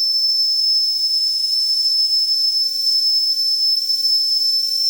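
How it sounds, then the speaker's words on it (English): A piercing, constant high-pitched steam whistle on a Wilesco D455 model steam engine blows without a break over a soft hiss, loud and close. "the whistle will be ear splitting until pressure dumps sufficiently from the boiler"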